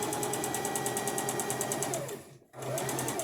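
A sewing machine stitches fabric in a fast, even mechanical whir with rapid regular ticking, briefly stopping near the end before restarting, close and clear with no voices.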